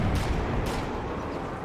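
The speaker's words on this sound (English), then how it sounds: "so he does have another bazooka as well, firing over the hedgerow" A bazooka fires over a hedgerow in a wartime strategy video game, heard as a sustained, loud rumbling blast with a couple of sharper cracks at the start and no voices.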